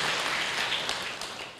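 Congregation applauding in a church during a sermon by Dr. Gilbert Lumoindong, a dense, steady wash of many hands clapping at once, fairly loud, easing slightly toward the end.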